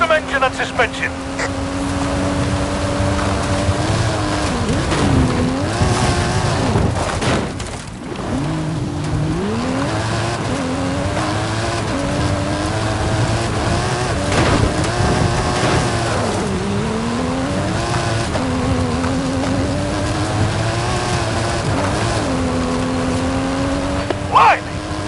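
In Forza Horizon, a stunt car called the Mike Steel Special, fitted with a custom engine and suspension, is driven hard uphill. The engine drones loud and steady throughout, its pitch climbing and falling through gear changes, with voices talking over it.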